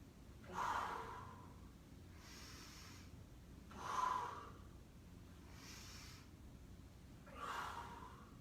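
Heavy breathing during a weightlifting exercise: three loud, forceful breaths spaced a few seconds apart, each a close, sharp rush of air over a quiet background.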